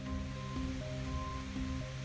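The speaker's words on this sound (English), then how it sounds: "Sounds like the rain's starting to pick up now." Rain falls in a forest near old cabin ruins, a steady dense patter and hiss that fills the clip at even loudness, with faint tonal hum underneath.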